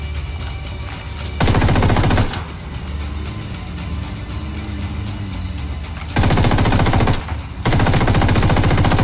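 Spray gunfire in Ghost Recon Wildlands, loud sustained automatic bursts in two long stretches with a short third burst, separated by quieter vehicle-like rumble and background noise.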